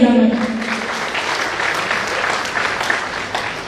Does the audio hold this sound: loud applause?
yes